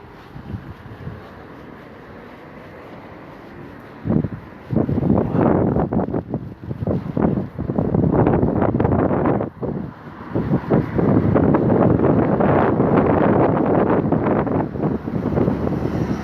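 Heavy wind by the River Roding buffets the microphone in loud, gusty rumbling bursts, with brief calmer stretches between the strongest blasts.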